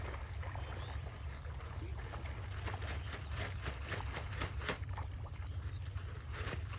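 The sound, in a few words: whole 25 kg sack of floating fish feed poured into pond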